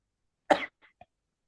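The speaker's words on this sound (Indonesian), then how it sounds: "agak batuk" A single sharp cough, close to the microphone, is followed by a faint catch of breath and a tiny throat sound, with silence around it.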